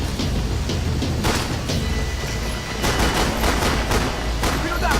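Gunfire in the shooter Max Payne 3, dense bursts of rapid shots with heavy booms, loud and continuous, with a brief lull midway before the firing resumes even harder.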